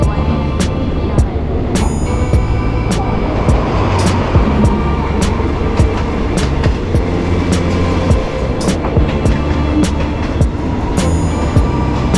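Steady loud rumble of a train rolling on rails into Hua Lamphong station in Bangkok, with sharp clicks and clacks over joints and faint squeals throughout.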